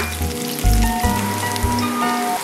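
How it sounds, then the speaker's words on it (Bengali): Chopped garlic frying in oil in a pan over medium heat makes a dense, close, continuous sizzle like steady rain, with a low hum underneath and no voices. "বাগার দেওয়ার জন্য চুলায় একটা প্যান বসিয়ে দিয়ে দিচ্ছি অয়েল। চুলার আঁচ মিডিয়াম থাকবে। দিয়ে দিচ্ছি কিছু রসুন কুচি।"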